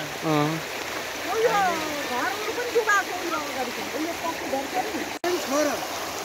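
Floodwater from a stream overflowing its banks after continuous heavy rain in Rupandehi, Nepal, rushing in a steady broadband roar that carries on throughout while people talk nearby.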